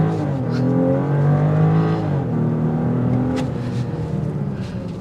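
A 2024 BMW X5 in sport mode accelerates hard from a stop, the engine note climbing through gears in a loud, sustained drone heard from inside the cabin.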